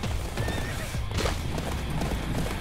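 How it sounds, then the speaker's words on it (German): A horse whinnies loudly over a dense wash of game sound in A.O.T.: Wings of Freedom, its high neigh rising and falling above steady background noise. "Das ist mein Pferd da."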